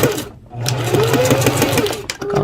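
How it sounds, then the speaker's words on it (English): A sewing machine stitching a seam with the presser foot lowered, then reverse stitching back to the start, a loud steady motor whir with rapid needle chatter and a short pause between passes. "lower my presser foot, start sewing, hit the reverse, go back to the beginning of the red"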